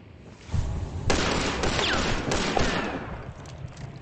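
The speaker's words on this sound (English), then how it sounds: "and then I'll try to shotgun him" Shotgun blasts in the Hunt: Showdown game: a couple of loud, booming discharges with broad crashing tails, sharp onsets near the start and middle, then a lingering noisy rumble.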